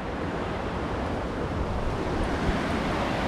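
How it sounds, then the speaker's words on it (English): River water rolls through Linville Gorge with a loud, continuous rushing roar close to the microphone, broken only by some wind buffeting and no talk. "look at that water roll"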